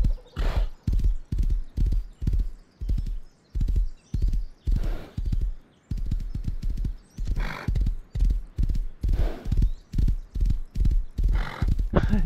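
Horse hooves in the console version of the game Rust, a loud, close, steady clip-clop gallop with even rhythmic beats running throughout, with faint breathy snorts between strides.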